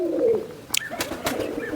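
A red-eyed Sialkoti pigeon coos up close, a few soft throaty notes with a brief flutter or chirp in between, heard alone without talk.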